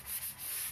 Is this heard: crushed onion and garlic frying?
no